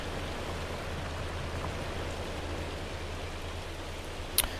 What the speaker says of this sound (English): Hopefully it's not golf ball or baseball size hail we're dealing with here.